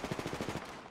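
Rapid automatic gunfire in an Apex Legends match, a steady burst of about ten evenly spaced shots close by, fading slightly toward the end with no talk over it.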